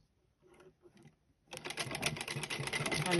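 A sewing machine runs steadily, stitching the folded hem of a hijab after a few soft handling sounds, its fast mechanical whir continuing close and loud to the end.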